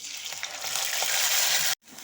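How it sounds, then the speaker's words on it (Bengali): Ginger, tomato and green chili paste fries hard in oil with nigella seeds, asafoetida and split green chilies, giving a loud continuous sizzle with faint stirring, close up, then cutting off abruptly near the end, with no talking. "আদা টমেটো কাঁচা গন্ধটা যাওয়া অবধি আমি এভাবে নাড়তে থাকবো।"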